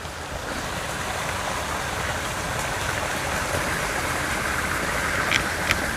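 Water pours steadily from the outflow of a man-made pond along a muddy, swampy stretch of the Appalachian Trail, a constant close rushing wash with no pauses or voices.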